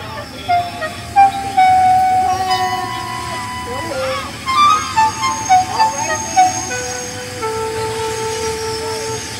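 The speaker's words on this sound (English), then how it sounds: "he was sent to the works on Henry's freight train." A cartoon freight train rolls along its rails, a steady low rumble of wheels and wagons with whistle-like tones and brief clanks rising over it, heard under a narrator's voice.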